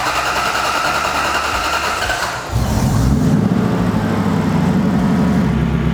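Supercharged V8 in a drift truck cranks and catches, shifting from a steady whirring hum into a loud, rough, continuous idle close by.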